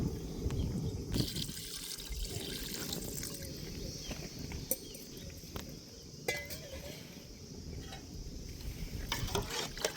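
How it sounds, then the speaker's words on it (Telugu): Water pours steadily into a pot of mutton for biryani for several seconds, a continuous gurgling rush with a few faint metallic clinks. "మటన్ ఉడకడానికి నీళ్ళు పోస్తున్నాం"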